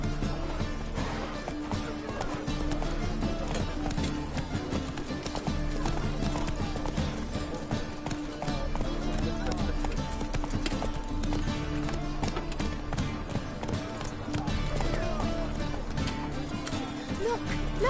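Horse galloping in The Witcher 3: Wild Hunt, with rapid continuous hoofbeats and occasional whinnies layered over game music, with some voices.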